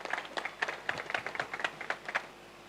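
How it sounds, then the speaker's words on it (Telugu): An audience at a Dhyana Saptaham meditation event in Raichur claps to welcome Dr. KVS Naidu to the dais: a fairly faint, steady patter of many hands. "ఇప్పుడు విచ్చేసినటువంటి డాక్టర్ కేవీఎస్ నాయుడు గారిని డాయస్ పైకి రావాల్సిందిగా చప్పట్లతో స్వాగతం పలుకుతా ఉన్నాం"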